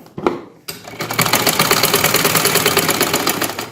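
A sewing machine stitching the hem of a salwar leg, two short bursts and then a loud, rapid, steady mechanical chatter close by, with no talking.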